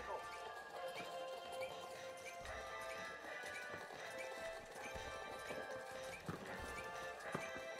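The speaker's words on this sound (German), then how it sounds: "Ich höre Schritte." Footsteps thud faintly and irregularly in the arena shooter video game The Finals, under a continuous layer of game ambience and a voice.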